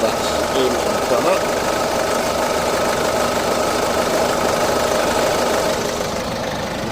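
A 2009 BMW Mini Cooper D R56 diesel engine idles with a steady, knocking clatter, running continuously nearby while a person talks over it.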